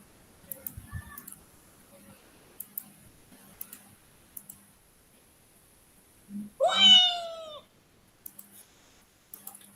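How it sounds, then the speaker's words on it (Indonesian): A cat gives a single drawn-out meow, close and fairly loud, standing out against a quiet room with scattered faint clicks and ticks before and after. "Ada lagi main sama kucing ya."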